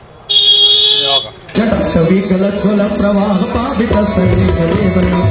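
Loud, steady horn-like tone blares near at the start for about a second amid a dense crowd on the Varanasi ghats during Ganga aarti, followed by noisy crowd chatter and music-like tones.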